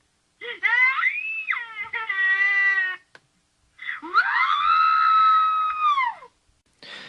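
Two long, high-pitched recorded human screams, the first wavering and breaking off, the second a sustained shriek lasting about two seconds, loud and close.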